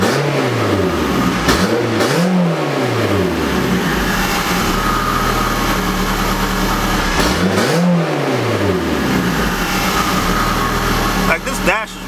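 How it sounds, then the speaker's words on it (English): A car engine fitted with a K-Tuned throttle body idles steadily, with two short rev blips rising and falling early on; a person talks over the engine throughout. "Like now the car just idles smooth."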